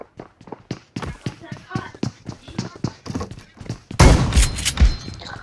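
Rapid gunshots crack in a mobile multiplayer shooter match, dense bursts at the end after a stretch of sharp, evenly spaced shots, with people talking over the gameplay throughout.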